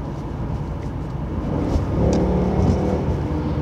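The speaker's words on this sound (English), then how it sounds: "just enjoy the sound that motor makes" An Audi Quattro engine revs up after a downshift in the manual gearbox, a steady close-up drone that swells and climbs midway through, with no voices.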